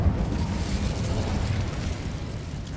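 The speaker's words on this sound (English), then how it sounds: "Incendio." A fire spell cast in Hogwarts Legacy, a steady loud whooshing, roaring burst of flame with crackling rumble that sustains evenly for nearly three seconds, with no talking over it.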